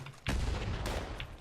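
A grenade explodes in Fallout 76, a sudden loud booming blast with a rumbling tail and a second crack partway through, close and dominant over the game ambience.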